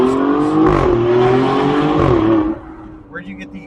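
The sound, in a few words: Alfa Romeo Stelvio Quadrifoglio twin-turbo V6 with Z-pipe exhaust accelerating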